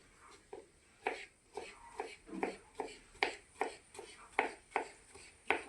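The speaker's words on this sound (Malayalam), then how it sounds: "അപ്പോൾ നമ്മൾ കുക്കുംബർ അരിഞ്ഞ് കഴിയട്ടെ." A knife chops cucumber finely on a board, a quiet, close series of even, quick taps in a steady rhythm with no talking.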